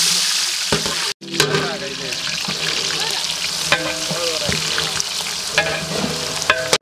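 Chopped onions frying in palm oil in a pan during village cooking, a loud, continuous sizzle with repeated scraping stirs and a brief cut near the start.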